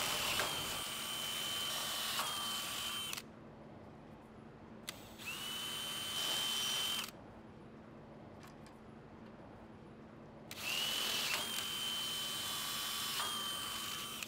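A power drill whines in three long bursts of several seconds each, drilling through a plastic tarp axle cap and tarp axle, separated by quieter gaps, steady pitch while running, close and loud.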